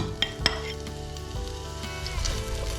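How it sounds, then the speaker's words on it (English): Mixed vegetables fry in olive oil in a pan for chilli con carne, a steady close sizzle with a couple of sharp clinks early on and faint stirring scrapes. "I'm going to add a little bit more olive oil to the pan and add all the veg."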